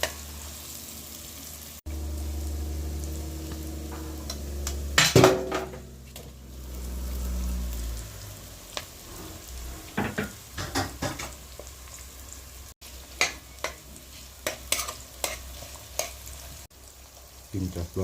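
Corned beef curry with green seasoning sizzles in a pot while a spoon stirs and knocks against the sides, a steady fry sound broken by irregular clanks, near and fairly loud.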